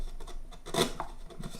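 A hand tool cuts notches into wooden acoustic guitar braces, a few short raspy scraping strokes close by, one louder stroke in the middle.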